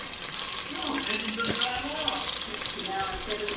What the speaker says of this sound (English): I am just sauteing this onion and garlic.